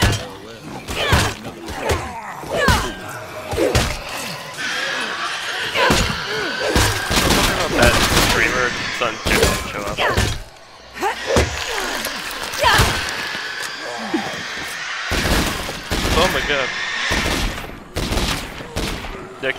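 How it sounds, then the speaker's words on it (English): Shotgun blasts from the video game State of Decay 2 go off repeatedly among thuds and impacts, loud and irregular over nearly twenty seconds, with someone talking in between. "Nick, that's a shotgun."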